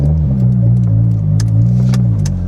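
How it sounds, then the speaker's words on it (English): A manual car's engine labouring through a hill start on an unfamiliar uphill road, a steady low rumble with shifting pitch as revs rise and fall, loud and close, no talking. "hill starts in a manual car never get old"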